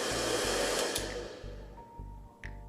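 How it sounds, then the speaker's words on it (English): A hair dryer runs on thin wires, giving a steady loud blowing whoosh with a low pulsing hum that fades slightly as the wiring overheats. "If I try to power a hairdryer using these thin wires"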